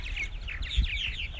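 Purple martins chatter at their colony house on a July evening, parents, young and bachelor birds together, giving a quick run of repeated gurgling chirps at moderate distance over a low steady background hum.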